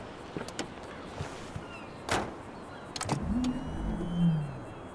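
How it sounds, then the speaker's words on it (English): A few clicks and a thump, then a rising and falling electronic whir of a Renault R5 Turbo 3E electric car starting up in a video game, fairly quiet with no voices. "this is an electric car, so the startup sound is actually slightly different"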